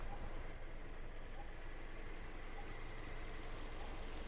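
A 2013 Toyota Corolla Altis 1.6G sits idling, its engine giving a very quiet, smooth, steady low hum close by with no talk over it.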